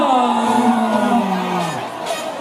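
A large crowd at an outdoor World Cup cheering concert roars and whoops with sustained shouting, loud and continuous, while a voice calls out through it.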